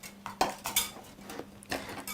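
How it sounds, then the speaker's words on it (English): Kitchen scissors snip parsley inside a metal pot with the blades pointed down, giving close, uneven metallic clicks and taps against the pot. "Keep it all contained inside the bottom of the pot and keep on chopping with the blades pointed down."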